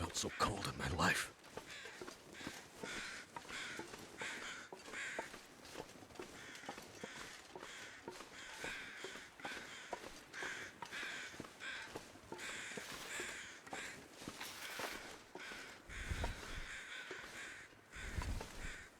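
Crows caw repeatedly in a snowy wilderness in the survival game The Long Dark, the calls moderately distant and scattered over a steady wind-like background, with brief footsteps and occasional talk.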